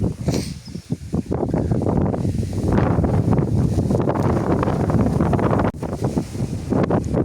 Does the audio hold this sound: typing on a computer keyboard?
no